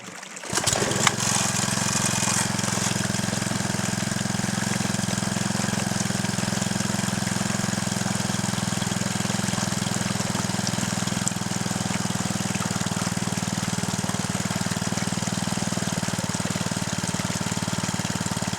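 A small engine on a gold dredge fires up after a brief pause and then runs loud and steady at close range, a constant mechanical drone with a rapid knocking rhythm.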